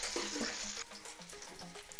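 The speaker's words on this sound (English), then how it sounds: "Then we're going to start to fry the meat. Listen to that sound. That's sizzling." Meat sizzles and spits in hot fat in a pan while a Bulgarian kapama is cooked. A loud, close, steady hiss dominates for almost a second, then settles into a quieter crackle.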